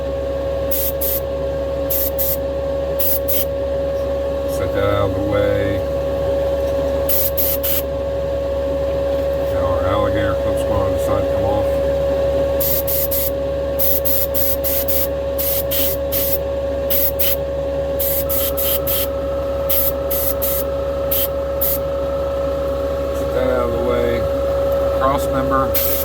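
Small race boat parts get spray painted in bursts of hissing spray, several short and longer blasts spread through the clip over a constant machine hum, with a person talking in between.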